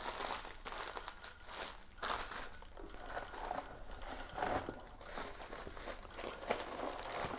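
A large plastic bag of magnesium sulfate heptahydrate fertilizer is handled up close, giving continuous crinkling and crackling with small bursts of rustle, and no talk over it.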